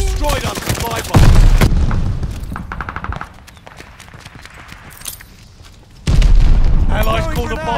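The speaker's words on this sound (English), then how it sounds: "Friendly glide bomber incoming." Explosions from glide bombers and rattling gunfire in the multiplayer shooter Call of Duty: Vanguard come in two loud bursts with a quieter stretch between them, overlaid with voice chatter.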